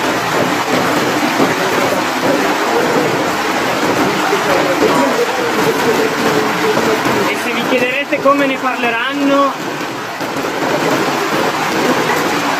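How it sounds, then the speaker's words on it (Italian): Heavy hail and rain pound down steadily during a violent storm in Italy, with a dense, continuous roar throughout; a person speaks over the downpour for much of it. "questi chicchi di grandine che rimbalzano fino a 3 metri d'altezza"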